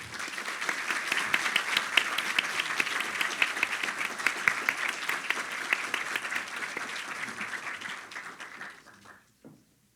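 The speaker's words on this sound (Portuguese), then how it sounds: "eu vou pedir uma salva de palmas também para o nosso convidado, Eduardo Janete." Sustained applause from a lecture audience welcoming a guest speaker, steady and dense clapping for several seconds before fading out near the end.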